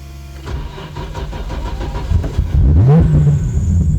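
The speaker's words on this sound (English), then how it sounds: "So now I'm gonna start the car." A 750 hp Nissan Skyline GT-R R34 engine cranks and catches, then settles into a loud, steady idle with a rising rev near the end.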